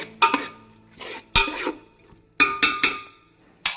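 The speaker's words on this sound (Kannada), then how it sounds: "ಇದು ಸ್ವಲ್ಪ ಹೊತ್ತು ಇದಕ್ಕೆ ಮಿಕ್ಸ್ ಆಗಿ ರೋಸ್ಟ್ ಆದರೆ ಚೆನ್ನಾಗಾಗುತ್ತೆ." Ginger garlic paste roasts in a pan while a spoon scrapes and stirs it in a few short, close bursts, clattering against the metal, for a mutton pulao.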